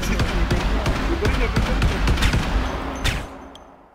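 Rapid gunfire in a video game, including shotgun blasts, a dense run of sharp cracking shots that fades out near the end, with a voice talking underneath.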